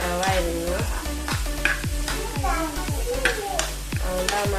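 Chopped onions for a Kerala-style egg roast fry in a pan, a close steady sizzle punctuated by rhythmic spoon strokes scraping the pan about twice a second, with faint voice in the background.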